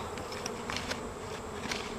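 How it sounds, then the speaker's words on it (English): Honeybees buzzing at the front of a hive during a summer inspection, a steady close drone of many wings with brief louder passes as individual bees fly near. "I have a feeling there's a ton of bees hanging out after being invaded for the first time in a while"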